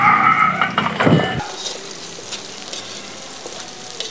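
Food frying in a pan, a loud sizzle at the start with clatter near one second, then settling into a steady, quieter crackling hiss.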